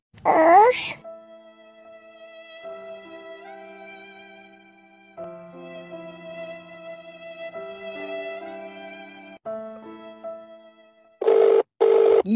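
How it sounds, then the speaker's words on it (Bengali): A telephone ringtone plays a repeating electronic melody on and on with no one picking up, bracketed by short loud bursts of voice at the start and end, in a comedy skit. "ফোনটা তুলতে তো দেরি করছে কেন রে?"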